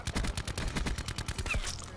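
Rapid gunfire in Call of Duty Black Ops 4, a sniper rifle among other weapons, with close, loud, repeated shots in a dense rhythmic burst throughout and no talk.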